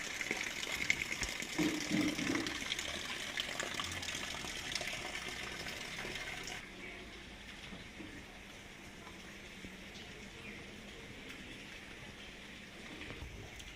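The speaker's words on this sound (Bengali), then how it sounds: "যেখানে বৃষ্টি পানি পড়তেছে ছাদ থেকে" Rainwater splashes and pours steadily from a roof under a soft hiss of rain, fairly faint, easing to a quieter patter partway through.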